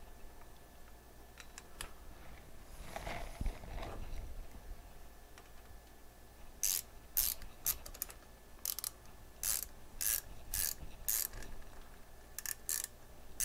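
Air cleaner bolts being tightened down on a Harley Davidson during a Stage I air cleaner install, heard as a run of sharp, close ratcheting clicks in short bursts after a brief muffled handling noise, with no talking.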